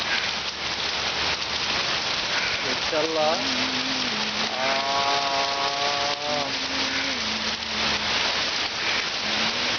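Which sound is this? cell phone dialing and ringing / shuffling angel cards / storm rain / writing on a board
storm rain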